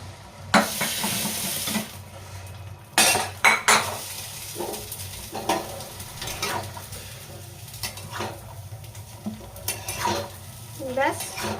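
Onions fry and get stirred in a small mini wok (kadai). Metal utensil clatters and scrapes against the pan come in irregular bursts over a steady sizzle, with a faint voice now and then.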